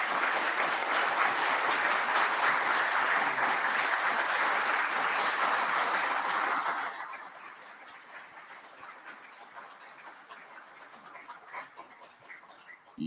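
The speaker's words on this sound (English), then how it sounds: "Y'all quit clapping. You're cutting in on my time." Audience applause at a government hearing, loud and sustained for about seven seconds before dropping away abruptly into a quieter room with scattered faint noise.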